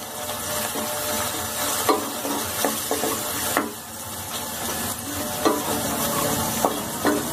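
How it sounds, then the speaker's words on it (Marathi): Onion, green chili, garlic and cumin tempering with turmeric sizzles steadily in a pan while a spoon stirs, scraping clicks and taps sounding up close throughout with no talk. "फोडणी छानशी परतली गेली"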